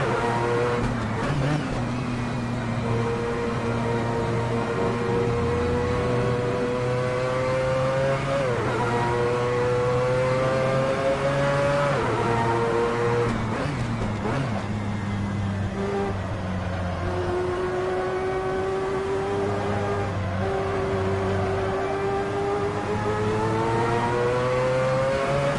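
A race car engine in Assetto Corsa on PS4 revs hard through a lap, its whine climbing and dropping with repeated gear shifts, steady and close for the whole stretch.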